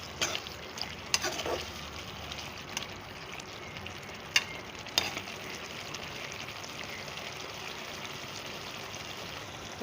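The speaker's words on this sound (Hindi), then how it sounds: "अब थोड़ी सी तेज़ आंच पे इसको अच्छी तरह से भूनना है।" Chicken karahi with chopped green chillies and coriander frying over high heat, a steady close sizzle with occasional sharp clinks of stirring.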